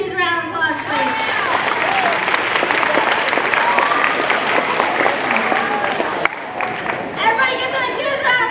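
At a Glenwood High School assembly, the audience breaks into loud, sustained applause with cheering and crowd chatter, voices rising at the start and end and a sharp knock near the close.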